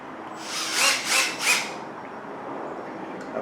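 A power drill bores pocket holes into a wood board held in a Harbor Freight pocket hole jig, the bit grinding in three short surges before settling into a steady whir.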